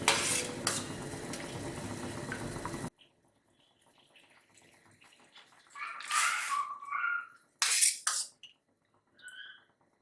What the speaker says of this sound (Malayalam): നമുക്ക് ഇതിലേക്ക് കട്ട് ചെയ്ത് വെച്ചിരിക്കണം പൊട്ടറ്റോ പീസസ് ഇട്ട് കൊടുക്കാം.